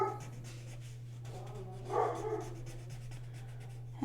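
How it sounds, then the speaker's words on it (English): A dog indoors gives brief yips and whimpers, faint and swelling once midway, over a steady low electrical hum with no talking. "there goes my dog going cray cray"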